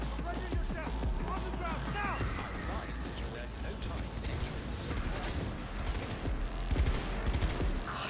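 Rapid gunfire bursts in the video game Cyberpunk 2077, crackling steadily and densely throughout under a low rumble, with talk mixed in.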